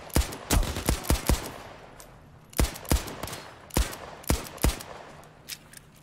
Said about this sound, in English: They're shooting at me with automatic guns.